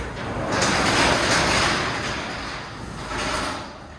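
A residential garage door, released from its opener chain, rolls down by hand with a steady broadband rumble and rattle lasting several seconds, close and fairly loud, with no talking.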